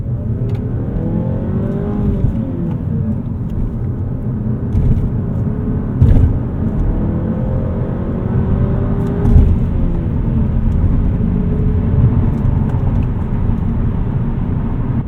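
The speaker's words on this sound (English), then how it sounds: "it's kind of fun to rev out, and it sounds a lot like an older 4-cylinder" A manual 2023 Mazda 3 with a 2.5-liter four-cylinder engine revs up steadily, a loud, close, continuous engine drone with a few rises in pitch and no talking over it.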